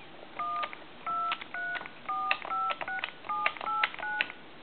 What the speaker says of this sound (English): Go ahead and dial some numbers.